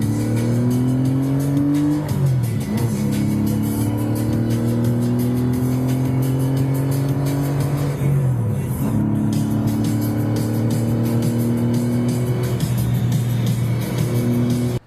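A Porsche 911 Safari engine revs up through the gears on the road, rising in pitch, dropping at each shift, then climbing again; loud and steady throughout.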